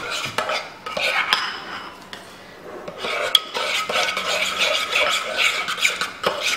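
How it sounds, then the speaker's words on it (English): A spoon stirs the emptied contents of TerraZyme capsules in a dish, giving steady scraping and clinking strokes that are close and fairly loud, with no talking. "And then give that a stir around."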